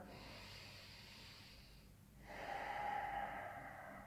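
Slow, deep breaths held in a yoga plank pose: a long airy exhale, a brief pause, then a fuller inhale, close and soft with no talking.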